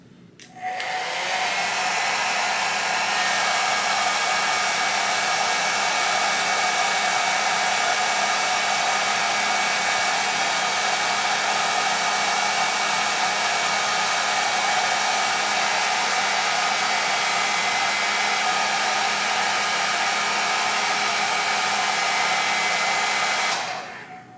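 A blow dryer on its cool setting runs steadily and loudly from start to finish, a constant whooshing hum that clicks on and off at the ends.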